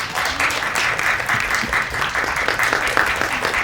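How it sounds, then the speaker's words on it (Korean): An audience at a film press screening applauds as the actors are welcomed, a loud, continuous, dense round of clapping that holds steady throughout. "따뜻한 박수를 맞아주시기 바랍니다."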